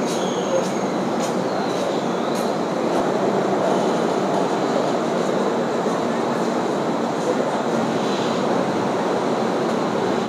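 Gour Express pulling out of Sealdah station, a steady broadband rumble of train movement and rail noise filling the whole stretch at a constant loud level, with faint high squeals and clanks on top and no talking.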